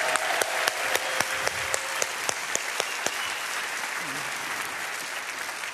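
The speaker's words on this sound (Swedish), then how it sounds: "En applåd till för Fabia." Audience applause at a live church-style gathering, steady clapping with a few sharp, close individual claps standing out, and brief voices in the background.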